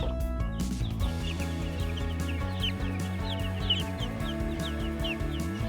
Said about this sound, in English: we have 22 chicks, and these are the types of chicks that I buy Freedom Rangers instead of Cornish Cross